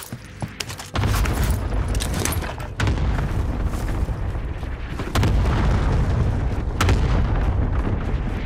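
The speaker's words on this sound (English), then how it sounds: "Cluster strike is active." Cluster artillery strike in a military video game: a rapid barrage of heavy booming explosions, with sharp blasts near 1, 2.8, 5.2 and 6.9 seconds over a continuous loud rumble of impacts, with no talking.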